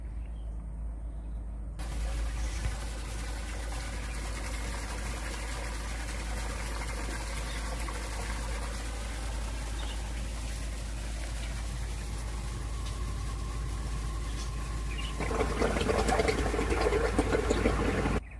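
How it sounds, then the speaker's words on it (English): An engine-driven water pump drains a flooded dam in Thailand. Its motor drones at a constant idle alongside gushing water for the whole stretch, and the sound grows louder and rougher near the end. "had to pump the dam out this morning"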